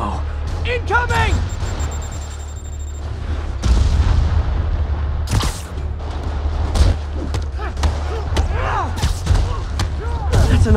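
Rocket explosions and booming impacts from the Spider-Man video game, heavy low rumbles recurring across the clip amid bursts of action, with speech-like game voices mixed in.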